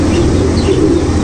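Pigeons in a pigeon loft give soft, continuous low cooing with faint chirps and wing rustles, a steady murmur close by with no talking.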